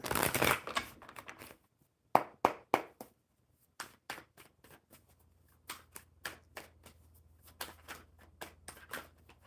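Tarot cards are shuffled by hand in a quiet room, giving a dense riffle at first and then a series of sharp, separate slaps and flicks with short pauses between them.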